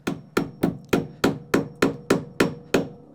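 A hammer strikes staples over and over while securing electrical wiring during a bedroom rough-in, ten sharp, evenly spaced, ringing blows, close and loud with no talking.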